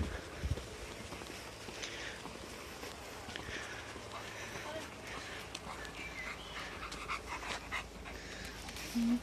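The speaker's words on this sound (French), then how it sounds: "C'est mon chien." A dog panting softly and rapidly at close range, with faint footsteps or paw taps and someone speaking quietly at times.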